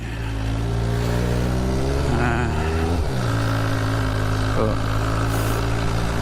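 Triumph Street Triple motorcycle engine with a worn cam chain tensioner, idling and revving close by with a low throbbing note that drops as the throttle closes, a metallic rattle beneath, and someone talking over it.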